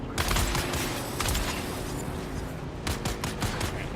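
A rapid burst of sniper and other gunfire in a shooter video game crackles in bunched volleys near the start, around one second and again near three seconds, dense and moderately loud.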